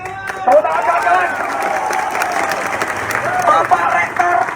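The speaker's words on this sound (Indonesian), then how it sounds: "Tepuk tangan kawan-kawan." Crowd applause and cheering at a student protest at Udayana University, steady and dense across the whole stretch, with a voice talking over the clapping.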